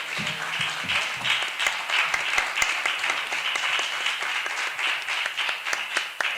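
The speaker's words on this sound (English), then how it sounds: "I want to ask for another round of applause for the panelists." Audience applause for conference panelists at a summit on people of African descent, a dense sustained round of clapping that fills the whole stretch, with faint voices briefly underneath at the start.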